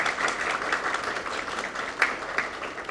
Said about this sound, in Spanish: Un aplauso, gracias.